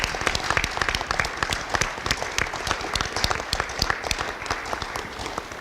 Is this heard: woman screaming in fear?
no